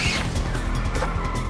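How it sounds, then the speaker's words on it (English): A Camaro drag car loses control at speed and hits a Mustang at an all-Mopar drag racing final at Indy; a loud car roar with tire squeal and a brief crash-like impact, close and continuous. "the racing has become terrifying as Sean Finley loses control of his Camaro and tags Pete Johnson in his Mustang."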